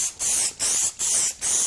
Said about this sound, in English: You can spray Q30 straight onto the